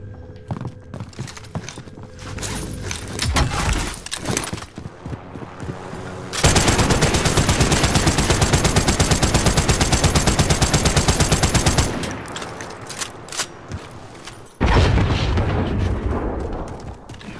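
Video game gunfire: scattered shots at first, then a long, loud burst of rapid automatic fire lasting several seconds, and more bursts after a short gap.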